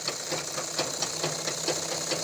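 A sewing machine stitches a straight seam with a steady, fast mechanical thumping at an even rhythm, fairly loud and continuous throughout, with no voices over it.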